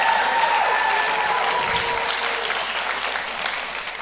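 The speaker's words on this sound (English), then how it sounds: "Clap your hands and shout like we're learning." An audience at a spiritual church service claps their hands in a loud, sustained burst of applause that tapers off slightly toward the end, with faint voices mixed in.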